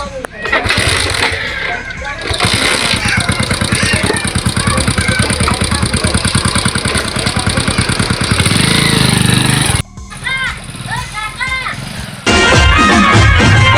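A motorcycle engine runs with a rapid, steady chugging pulse, loud and close, while people talk and shout over it; the sound cuts off briefly before resuming.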